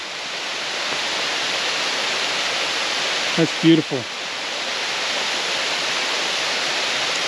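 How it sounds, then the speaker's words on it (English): A waterfall in Olympic National Park roars as a steady, broad wash of falling water, loud and continuous, while a person briefly speaks partway through. "There's something about the serenity of a waterfall and the peacefulness of it. Even though it makes noise"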